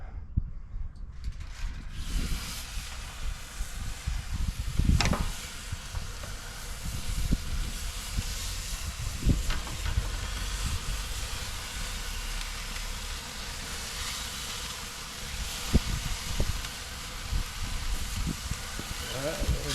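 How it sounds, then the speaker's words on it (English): Steak on an SnS grill sets off a continuous, hissing sizzle that starts after a quiet moment and keeps going steadily, with someone talking over it now and then. "I've never cooked steak on this thing before."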